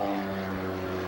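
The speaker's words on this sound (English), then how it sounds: "For such a small airplane, it sure makes a lot of noise." Small aerobatic propeller airplane with a Lycoming engine performing at the 1988 Oxnard Airshow: a loud, steady droning roar with strong humming harmonics throughout, no voices.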